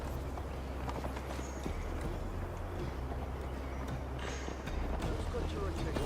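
Horse hooves clip-clopping at a steady galloping rhythm in the video game Assassin's Creed Valhalla, continuous and fairly loud under a low ambient rumble, with voices talking over it.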